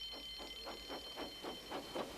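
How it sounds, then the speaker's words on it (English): A rhythmic ringing alarm bell pulsing about four times a second, steady and moderately loud, with a high tone sustained underneath. "Soon came the alarm."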